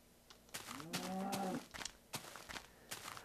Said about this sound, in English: I hear you, cow. You are not a cat.